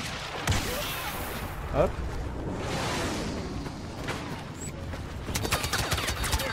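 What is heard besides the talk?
anti-infantry turret firing in Star Wars Battlefront video game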